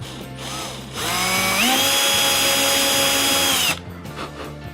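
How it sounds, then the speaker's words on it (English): A small drill bores into soft wood during a scale model build of the ship JS Elcano, its whine rising and holding steady for a few seconds before stopping. "I guess it's drilling only because it's soft wood here."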